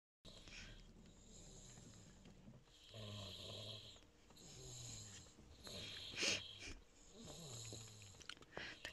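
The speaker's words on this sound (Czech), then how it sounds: "Chrápe na celý auto." A child snores inside a car, soft rhythmic rasping breaths repeating every second or so at close range, quiet overall, with faint background noise.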